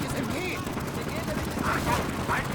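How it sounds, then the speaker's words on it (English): Machine gun fire in the WWII strategy game Gates of Hell Ostfront, a steady rattle of bursts heard under continuous commentary from someone talking throughout. "The MG is engaging another German assault on the right flank."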